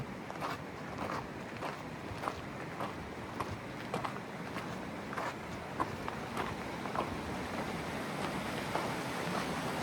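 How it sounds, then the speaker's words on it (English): A stream flows steadily beside a hiking trail, a constant broadband wash of water running throughout, with faint footsteps and wind noise mixed in. "It's nice to listen to that water along the way."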